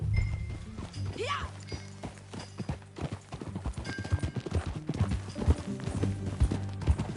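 Horse hooves clip-clopping at a steady riding pace in Red Dead Redemption, close and rhythmic, with a short whinny near the start and a few voices talking over the hoofbeats.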